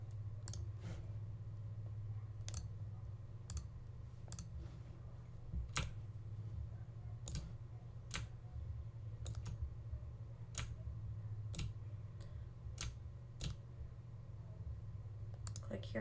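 A computer mouse clicks repeatedly during Photoshop editing, producing sharp, isolated clicks at irregular intervals over a steady low hum, with soft talking in the background.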